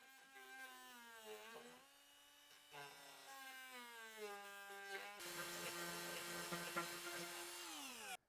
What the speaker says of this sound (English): I'm going to use the die grinder and pull out that material along our marking